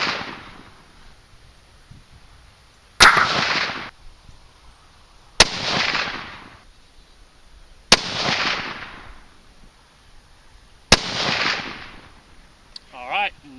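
A .243 rifle firing 90-grain Sierra Gamechanger handloads at 100-yard targets: four sharp, loud shots spaced a few seconds apart, each trailing into a brief echo.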